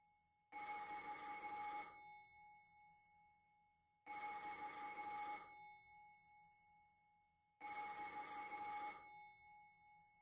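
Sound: telephone ringing in a video game

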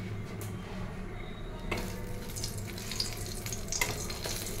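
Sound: three dry red chillies frying in oil

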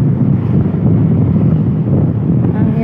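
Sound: strong wind at a beach

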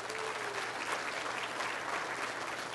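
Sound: audience applause

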